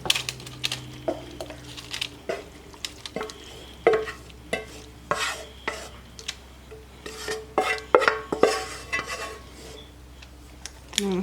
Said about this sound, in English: all I'm going to do is just dump our filling in here